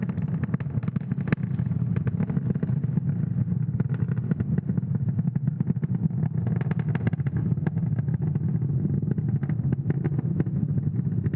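A SpaceX Falcon 9 rocket climbing through the atmosphere at supersonic speed after launch from Cape Canaveral on a Starlink mission, heard as a steady, dense low roar with crackling texture that holds at even loudness throughout.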